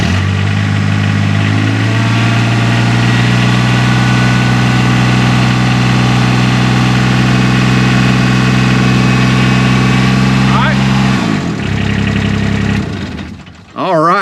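A Kubota RTV-X1140 utility vehicle's engine is started and settles into a steady idle. Once it catches it runs loud and even for about ten seconds, then dies away near the end.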